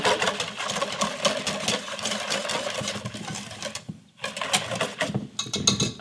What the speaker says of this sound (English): the cream separated a little bit here, so I'm gonna just give this another whiskey whisk